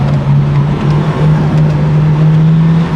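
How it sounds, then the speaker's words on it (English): Fluttering turbo sound from an SR20-engined car with its blow-off valve blocked, a loud, close engine with a steady low hum and a rapid chattering flutter over it for a few seconds. "It is such a cute little baby turbo noise."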